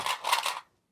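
Scissors trim the edge of a clear vinyl sheet in a few quick, crisp snips close up, ending abruptly in silence.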